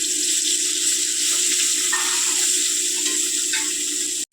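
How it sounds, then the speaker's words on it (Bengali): Fish frying in hot white oil in a wok, a loud continuous close sizzle with occasional brief pops and shifts as pieces settle, no voices. "মাছটা ভাজার জন্য আমি সাদা তেল দিয়ে দিচ্ছি কড়াইয়ের মধ্যে"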